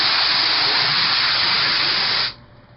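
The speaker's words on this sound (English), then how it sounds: "So we're going to keep my gun at an angle, minimize the overspray through the gap." A paint spray gun sprays stain onto a fence in a loud, steady, close hiss that runs unbroken for over two seconds, then cuts off abruptly, leaving only faint background.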